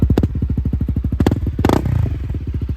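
A Honda CRF250L dual-sport motorcycle with an FMF Q4 exhaust revs in a rapid, throaty popping rhythm, rising briefly with a rattly burst midway, loud and close with no talking.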